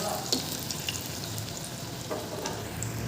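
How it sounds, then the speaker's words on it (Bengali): Slices of kankrol (spiny gourd) fry in a pan with a continuous close sizzle, punctuated by a few soft scrapes of stirring. "আরেক পিঠটা একটু ভাজা করে নিই, তারপরে দুটা পিঠেই সুন্দর করে লাল লাল করে ভাজবো।"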